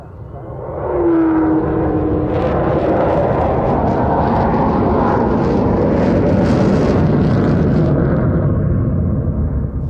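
A large delta-wing Avro Vulcan jet bomber roars overhead at an air show, a loud, steady, rumbling jet thunder that swells in after a second and holds heavy and continuous throughout.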